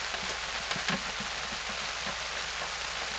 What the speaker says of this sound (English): she's raining pretty good out here.